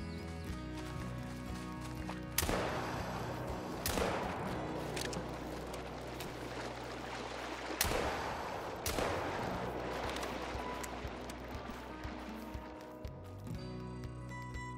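Shotgun slugs fire at an alligator in the hunting game theHunter: Call of the Wild. Four sharp blasts come in two irregular pairs over quiet outdoor ambience, each with a short fading tail.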